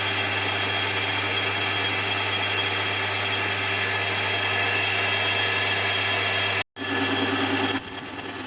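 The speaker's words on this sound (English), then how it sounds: "Here I'm drilling in with a center drill to give us our point." A center drill runs into metal tube with a steady mechanical whir and hum, stops for a brief moment, then starts again, grinding slightly higher and harsher.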